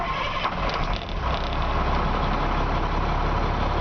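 A cold diesel truck engine fires up and settles into a steady, loud idle, its low rumble continuous and close throughout.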